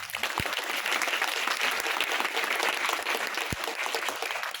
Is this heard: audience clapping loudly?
yes